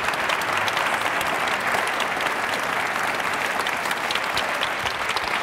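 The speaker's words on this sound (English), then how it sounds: "let's give a round of applause for the tremendous" An audience at a health-care leadership talk gives sustained applause, with dense, even clapping from many hands that fills the room steadily for several seconds at moderate loudness.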